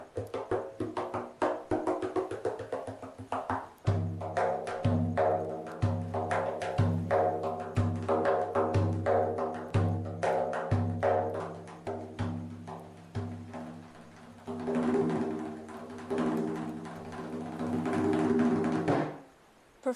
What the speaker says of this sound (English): Here is the sound of drums.